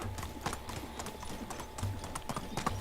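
Horse hooves in the video game Medieval Dynasty clop in a steady rhythm, moderately close, continuing throughout.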